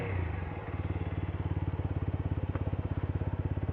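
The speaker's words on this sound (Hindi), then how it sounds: "तो मैं बाइक को थोड़ा सा अंदर लेके जाता हूँ।" A TVS Apache 200 4V motorcycle idles close by as it is moved inside, its engine putting out a steady, rapid, even thumping that continues unbroken throughout.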